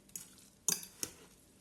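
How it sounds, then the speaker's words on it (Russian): A zucchini dish being stirred in a pan, heard as a few faint, sharp utensil clinks and scrapes against the metal, isolated taps spaced over a quiet background. "Перемешиваем."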